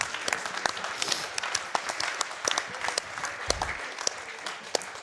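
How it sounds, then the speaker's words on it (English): A crowd applauds at a Metal Gear Solid 3 speedrun event, a steady wash of clapping with sharp individual claps popping out, continuing for several seconds. "I appreciate the applause"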